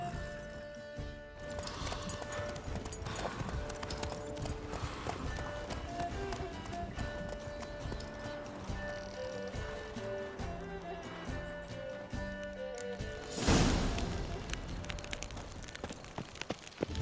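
Horse hooves galloping in The Witcher 3 video game, a continuous run of clip-clopping beats under game music and spoken dialogue, with a louder burst near the end.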